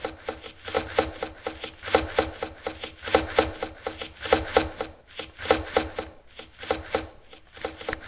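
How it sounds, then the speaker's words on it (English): Repeated rhythmic chopping thuds in bursts, a steady hacking pattern like several axes striking wood, fairly loud with no voices, in the video game Towns. "But here, let's chop all this wood."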